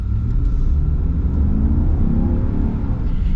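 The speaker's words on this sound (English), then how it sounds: "and then just boom with the gear shift" A 2025 Ram HD pickup truck with a naturally aspirated engine accelerates under a loud, steady engine roar close by, with rising revs and a gear change partway through.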